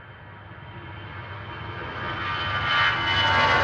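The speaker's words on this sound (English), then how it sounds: "Swiss is just going to cross in front of the A380 now on its takeoff roll" A 27-year-old Swiss Airbus A320 Classic jet bound for Zurich starts its takeoff roll at Manchester Airport, with a broad engine roar swelling steadily louder as it accelerates.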